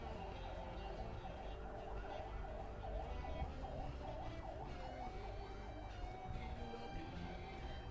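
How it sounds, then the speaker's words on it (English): An ambulance siren that has just driven past a house wails faintly from a distance, its rising and falling tone steady under a low background hum. "the ambulance just passed by my house. Weird. You can still hear it."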